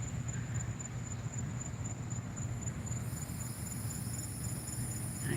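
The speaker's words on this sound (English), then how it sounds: "There's a cricket chirping." A high, steady insect chirping over a quiet outdoor hum, continuous and fairly faint, with a second trill joining partway through.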